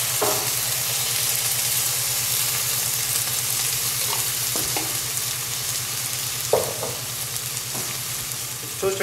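Onions and mushrooms fry in a pan with a steady, close sizzle, broken by a few sharp stirring clinks and scrapes, with a low hum running underneath throughout.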